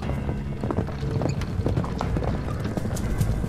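Horse hooves clip-clop steadily in a ghost-story adventure video game, a busy rhythmic patter of hoofbeats close by over a low continuous background.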